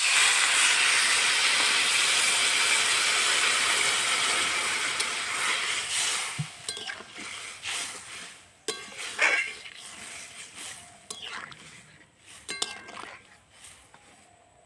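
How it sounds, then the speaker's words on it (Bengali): Water poured into a pan of fried potatoes for a fish curry hisses and sizzles loudly at first, the steam fading gradually, with clinks of utensils afterward. "আলুগুলো ভালো করে কষিয়ে নিয়েছি, এবার আমি দিয়ে দিচ্ছি জল"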